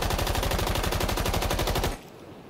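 A light machine gun fires a rapid sustained burst in Rainbow Six Siege, loud rhythmic shots about two seconds long, then stopping abruptly with a faint tail.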